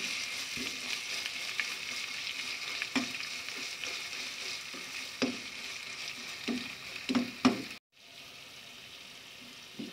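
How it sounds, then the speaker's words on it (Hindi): Onion cooked with garlic and ginger paste sizzles steadily in a pan, with intermittent stirring scrapes and a brief drop near the end before the frying resumes. "इन दोनों चीज़ों को पहले फ्राई कर लेते हैं।"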